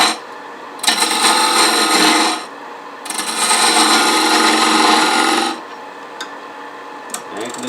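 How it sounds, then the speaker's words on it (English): A wooden globe ornament being shaped on a lathe, its back side cut with a hand-held turning tool: two long, steady bursts of rough, scraping cutting noise, close and loud, separated by brief pauses and followed by a few faint taps. "So I'll just start gradually shaping some of the back side a little bit."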